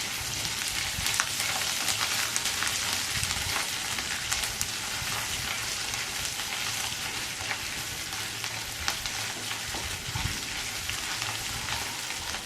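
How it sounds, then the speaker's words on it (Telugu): Ginger garlic paste frying in a pan for a spinach, tomato and egg dish, with a steady, dense, close sizzle that never lets up, like rain, and faint stirring scrapes now and then. "ఇప్పుడు ఇందుట్లో 1/2 స్పూను అల్లం వెల్లుల్లి పేస్టు, ఇది వేసి పచ్చివాసన పోయేదాకా బాగా ఫ్రై చేసుకోవాలి"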